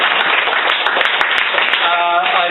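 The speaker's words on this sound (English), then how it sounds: "Again, another round of applause for Mr. Gord Oxley" An audience at a cancer book launch applauds Gord Oxley, with dense clapping filling the room and a voice talking over it toward the end.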